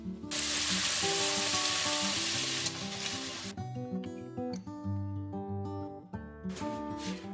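Mutton browns in a hot pan for Odia mutton kasha, a loud broadband sizzle at first that thins out later, heard beneath prominent background music with sustained tones.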